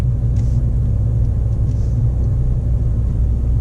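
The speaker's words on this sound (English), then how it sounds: "Okay, so now we're in first gear. We're at about 1800 RPM" A manual-transmission car idling along in first gear around 1800 RPM, a steady low engine rumble from inside the cabin, even and continuous with no talking.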